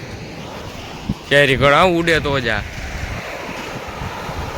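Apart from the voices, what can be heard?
sea waves on shore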